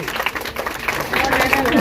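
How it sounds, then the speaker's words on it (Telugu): Applause from a crowd at a school enrollment drive event led by a district collector, brief and fairly loud, with voices mixed in over the clapping. "గట్టిగా అందరూ ఒకసారి క్లాప్స్ అండి"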